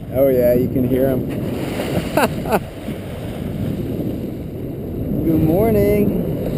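Dolphins are heard from a boat on the way to Escondido: high squeaky whistles rising and falling at the start and again near the end, under wind, water and boat noise, with people talking in between.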